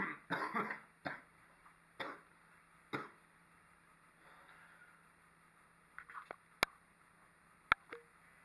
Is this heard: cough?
yes